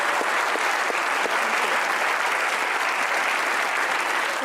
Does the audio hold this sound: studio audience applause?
yes